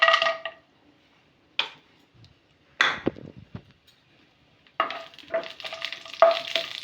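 Almonds frying in a pan with a still-wet spoon, giving short sizzling bursts with gaps of near-silence and a few light spoon scrapes, close and fairly loud.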